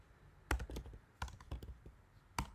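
Keys tapped on a computer keyboard while entering a command, a handful of quiet, close clicks in short uneven clusters separated by brief pauses, alone against a soft room hush.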